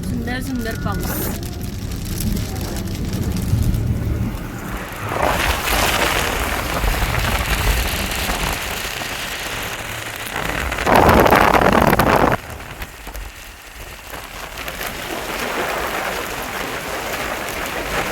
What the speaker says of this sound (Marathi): सुंदर सुंदर पाऊस.